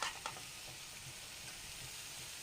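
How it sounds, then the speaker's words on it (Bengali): Turmeric, cumin powder and salt frying in oil for a rui fish korma, giving a faint, even sizzle that carries on without break, with a couple of soft stirring knocks at the start. "এত সময় ভাজা ভাজা হচ্ছে মশলাটা"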